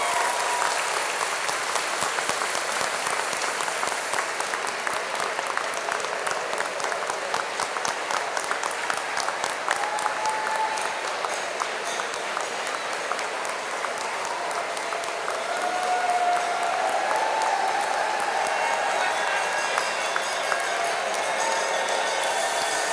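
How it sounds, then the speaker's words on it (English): A large indoor audience at an end-of-year ceremony honoring retirees claps for over twenty seconds, dense and sustained applause with a few faint voices mixed in. "Let's give them a big round of applause."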